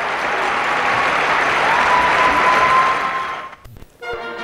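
A figure skating arena crowd applauds a pair's program with loud, sustained clapping that fills the venue and fades toward the end, followed by a brief electronic tone and the start of a broadcast jingle.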